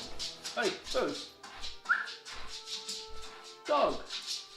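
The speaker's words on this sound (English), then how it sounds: "What is my dog doing?" A dog whimpers and gives short yips and soft bow-wow barks in a few close bursts, with brief quiet gaps between them.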